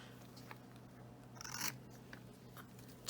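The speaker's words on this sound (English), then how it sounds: "now I'm just gonna take my random bits of ribbon and cut them" Scissors snipping through a strip of ribbon for a fall pumpkin craft, a short close crisp cut near the middle followed by faint handling rustle, with no talking.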